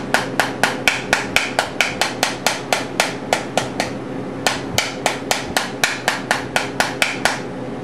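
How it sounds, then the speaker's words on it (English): An antique cobbler's chasing hammer with a flat peen tapping frets into a Martin D-28 guitar neck during a refret: a steady run of sharp, evenly spaced metallic taps, close and loud, with one short pause midway. "My fretting hammer of choice is actually an antique"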